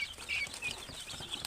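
Tithi-breed chickens cluck and call on a poultry farm in Bakshiganj, Jamalpur, with soft, fairly distant clucks repeating over a steady outdoor background.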